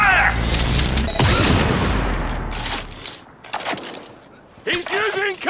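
Gunfire and explosions in the game Cyberpunk 2077: a heavy boom and burst of shots up front that rumble out, then quieter scattered bursts, with voices shouting over the combat.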